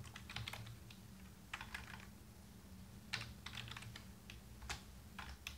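Typing on a computer keyboard, quiet bursts of rapid key clicks with short pauses between them, close and faint, with no talking.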